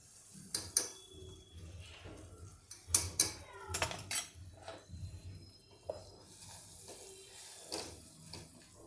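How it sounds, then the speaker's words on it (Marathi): Gram flour dry roasting in a pan, heard as a string of clinks and scrapes from a utensil against the metal pan. The sounds are close and irregular, with quieter gaps between them. "आधी आपण बेसन भाजून घेऊया"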